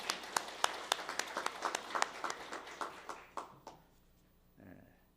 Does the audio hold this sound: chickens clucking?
no